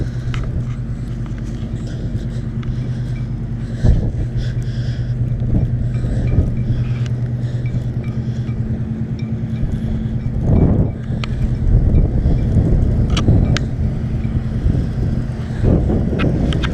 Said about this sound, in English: Pull forward and gas it.